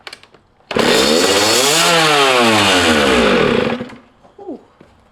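A dirt bike engine bursts to life and screams at full throttle for about three seconds, its loud, steady roar rising and falling in pitch before cutting off abruptly, with faint clatter afterward.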